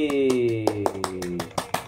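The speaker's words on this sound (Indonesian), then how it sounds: "Tepuk tangan untuk Nak Luga dan Nak Febri." A small classroom audience gives a scattered round of claps for a student presentation, the sparse, uneven hand claps landing over a voice that carries on talking.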